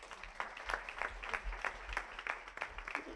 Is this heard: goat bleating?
no